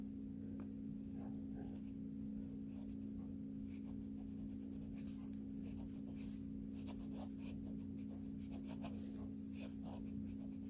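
A Jinhao fountain pen scratches across paper in soft, irregular strokes and taps close by, sitting above a constant low electrical hum, with no talking.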